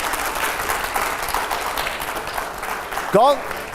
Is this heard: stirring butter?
no